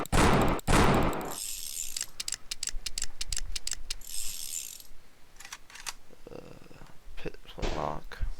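Shots from a flintlock weapon in a game's weapon system, sharp cracks spaced at short intervals with mechanical clicks and metallic ringing between them, fairly close and distinct.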